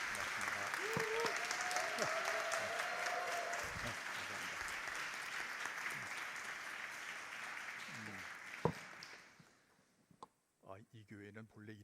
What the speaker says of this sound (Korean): 박수로 목사님을 모시도록 하겠습니다